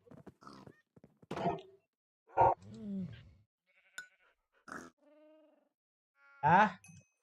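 Livestock in Minecraft, pigs and goats, give short scattered grunts and bleats, each call isolated and clear against near silence.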